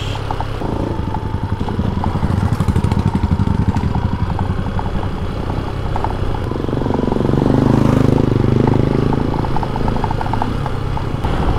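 Motorcycle riding a rough rural road near a patrol base in Davao City, its engine droning and rattling steadily up close, swelling louder toward the end, with no talking.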